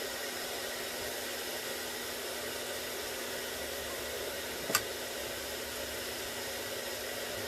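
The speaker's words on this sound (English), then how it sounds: "Sorry, my dryer is still on," Hair dryer running in an art studio during mixed media journal work, a steady loud whooshing hiss with a constant hum, broken only by one sharp click midway before the airflow carries on unchanged.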